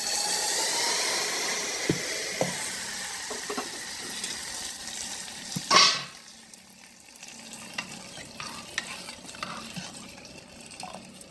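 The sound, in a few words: tempering sizzling in a pan for red gram dal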